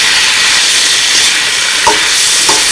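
A big, hot shrimp and chicken vegetable stir fry sizzles steadily in the pan, with a dense continuous hiss and two faint clinks of a utensil near the end.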